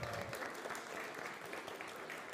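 Thin, light applause from an audience at an online quiz event, steady clapping for a couple of seconds at fairly low volume.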